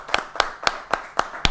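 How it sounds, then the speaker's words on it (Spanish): An audience claps in a short, sparse burst of about six distinct, evenly spaced hand claps, moderately close, with no talking. "Le damos un aplauso al doctor Fernando Belenga,"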